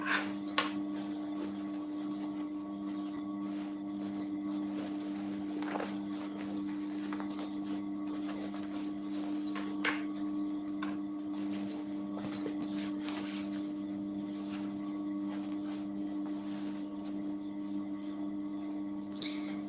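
A sewing machine stitches a puffer backpack, a steady mechanical hum with a constant motor drone and faint clicks running evenly throughout at moderate level, with no talking.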